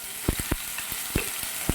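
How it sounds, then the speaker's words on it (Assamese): Mustard and ginger-garlic-chili paste frying in oil, a hissing sizzle broken by several quick spatula scrapes and taps against the pan, close and alone. "এতিয়া মই সৰিয়হ আৰু পিচি লোৱা আদা নহৰু জলকীয়াখিনি ইয়াতে দি দিছোঁ। দি মই মছলাখিনি ভালদৰে অকণমান ভাজি ল'ম।"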